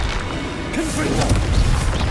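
A Confringo blast spell explodes in the Hogwarts Legacy video game, a loud booming crash with crackling impacts layered over dense, continuous game noise and a voice calling out.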